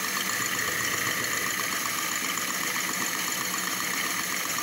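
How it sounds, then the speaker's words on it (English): Lego Technic whisking machine running flat out, a constant, dense whirring and rattling buzz of motor and plastic gears with no pauses. "this is pretty fast at whisking"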